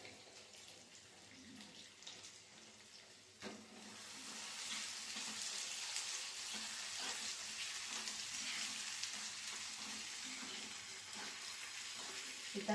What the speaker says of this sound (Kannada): ಮಿಕ್ಸ್ ಮಾಡಿಕೊಂಡು ಆನಿಯನ್ನ ಫ್ರೈ ಮಾಡ್ಕೊಳ್ಳೋಣ